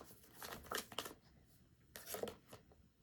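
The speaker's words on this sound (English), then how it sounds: "let me go ahead and shuffle for 3 cards" Tarot cards shuffled by hand at close range, two quiet, short riffling bursts separated by a brief pause.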